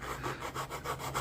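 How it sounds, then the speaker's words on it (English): A sanding stick scrapes back and forth over a plastic model car frame in quick, even rasping strokes, close and moderately loud. "Use my sanding stick for that."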